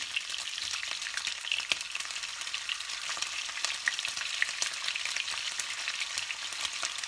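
Sliced whole potatoes fry in a pan with a steady, dense crackle and sizzle that stays fairly loud and continuous throughout, with small pops scattered through it and no voices.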